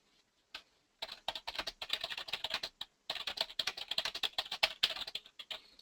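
Typing on a computer keyboard while writing in oXygen XML Editor, with rapid, close, clicky keystrokes in bursts and a brief pause partway through.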